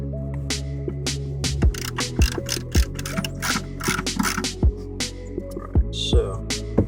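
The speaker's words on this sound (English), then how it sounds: "we got a wrench here. It's a 1/2 inch socket." Ratchet wrench with a 1/2 inch socket working on bolts during removal of SSA Evil subwoofers: a run of close mechanical clicking and ratcheting, with sharp knocks over a steady low hum.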